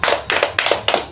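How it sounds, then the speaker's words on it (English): Four brief bursts of clapping from a talk-show audience, each a quick flurry of hand claps separated by short gaps, fairly close and crisp with no talking over it. "Give a round of applause."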